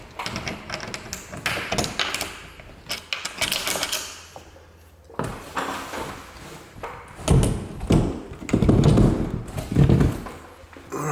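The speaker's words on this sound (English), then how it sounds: "Alright, so I've just pulled the door out." A sliding cavity door being worked loose and pulled out of its wall pocket during a DIY repair, with repeated close knocks, scrapes and rattles of wood against the frame, some louder clunks, and occasional speech.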